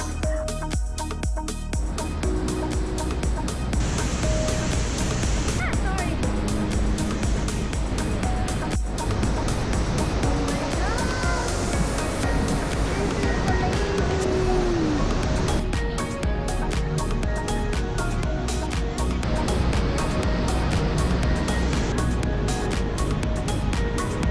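Continuous broadband roar of heavy falling water from behind Niagara Falls, steady and loud with no breaks and no talking.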